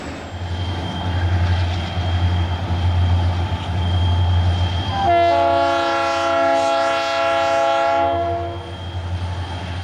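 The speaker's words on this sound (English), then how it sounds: "An SD50 and a UP painted tunnel motor hustle through Roseville on westbound auto racks." An SD50 and a Union Pacific-painted tunnel motor haul westbound auto racks through Roseville. A loud, steady rumble of the passing train is joined midway by a long, sustained multi-tone horn blast.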